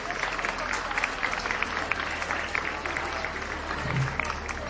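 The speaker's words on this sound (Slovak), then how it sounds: "Každopádne si myslím, že aspoň taký symbolický potlesk si od nás zaslúži." Audience applause at a village ceremony marking the 800th anniversary of the village's founding, a steady patter of many hands clapping moderately close for several seconds.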